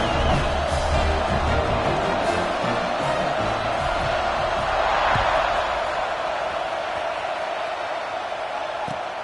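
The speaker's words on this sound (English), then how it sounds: "this crowd is feeling themselves after that last drive" Stadium crowd in a college football video game roars steadily with cheering and broad crowd noise through a kickoff, loud and continuous with a few sharp thuds.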